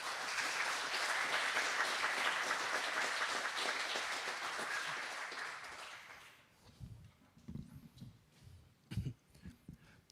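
A hacker-camp audience gives the network team a full round of applause that holds strong for about six seconds and then dies out, leaving scattered low thumps and murmurs.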